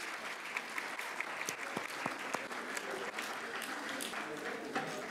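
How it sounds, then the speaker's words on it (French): A seated audience gives a sustained round of applause for students who took part in training modules, steady and even clapping that fills the whole stretch at moderate volume. "s'auto-féliciter nous-mêmes en applaudissant les étudiants qui ont participé à ces modules."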